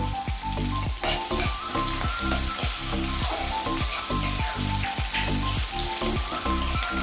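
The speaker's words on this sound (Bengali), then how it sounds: "কাঁচা লঙ্কা দিলাম, পেঁয়াজটা দিয়ে একটু ভেজে নেব" Green chilies and onion frying together in a pan, a loud, close, crackling sizzle with a steady run of rhythmic scraping strokes from stirring throughout.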